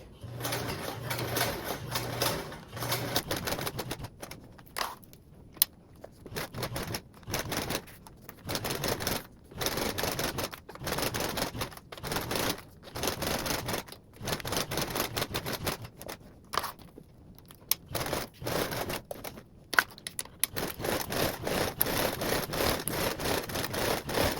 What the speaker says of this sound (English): I'm just top stitching with a 1/8